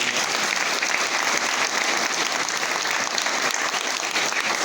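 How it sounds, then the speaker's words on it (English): An art exhibition crowd claps for the show's juror, a steady, moderately loud wash of many hands that carries evenly without a break and with no voices on top. "Let's give Tanya a round of applause."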